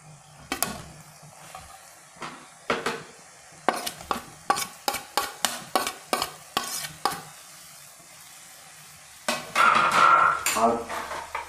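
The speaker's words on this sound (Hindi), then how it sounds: "टमाटर हमारे ये अधपके से हो गए हैं, तो इसी में हम ये शिमला डाल देंगे।" Chopped capsicum tipped into half-cooked tomatoes in a pan for paneer bhurji, then stirred with a spoon: a run of sharp clinking scrapes against the pan, a pause, then a louder burst of stirring and sizzling, up close.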